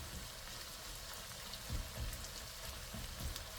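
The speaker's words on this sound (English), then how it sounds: "I'm gonna cover, let it simmer" A covered chickpea dish simmers in a pan, giving a soft, steady bubbling hiss like light rain, faint and even throughout, with a few slightly louder pops.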